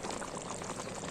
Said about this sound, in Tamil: நல்லா வலிச்சு ஊற்று